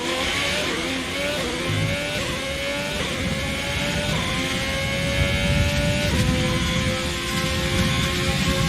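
An F1 car engine revving in F1 2020 during a Canadian Grand Prix race, a loud continuous high-pitched whine that climbs and drops with gear changes, steady and close throughout.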